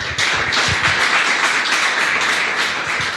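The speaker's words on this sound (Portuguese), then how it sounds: "Vamos aplaudir o Senhor bem forte?" A church congregation claps loudly together, a strong wash of many hands that starts abruptly and stays full and sustained, with some low rumbling thumps underneath.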